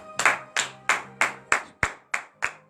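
Congregation clapping together in acclamation at a Benin morning prayer service, seven loud, evenly spaced unison claps about every third of a second, close and crisp with no talk.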